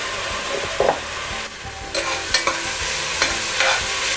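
Ginger-garlic paste fries in hot oil in a pan, sizzling continuously while a utensil stirs and scrapes through it in several brief clatters, with no voices.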